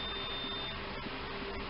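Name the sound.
multimeter continuity beep while testing a ceramic capacitor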